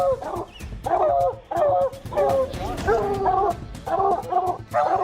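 Hunting dogs on a forest chase bark, yip and whimper in loud, overlapping bursts that come close together, with excited barking running through the whole stretch.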